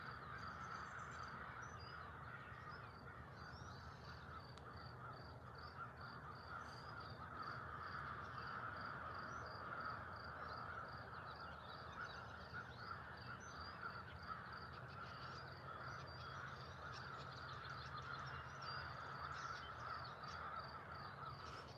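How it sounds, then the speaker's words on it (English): A large flock of crows caws in a park in Brantford, Ontario, a faint, distant, continuous chorus of repeated harsh calls over a low ambient outdoor hum. "I want to go see why all those crows are freaking out over there."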